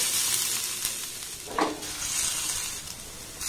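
Tomato and capsicum fry over a low flame in a pan, a soft, steady sizzle with a brief stirring scrape partway through, close and fairly quiet.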